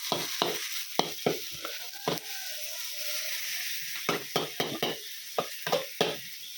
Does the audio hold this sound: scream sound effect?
no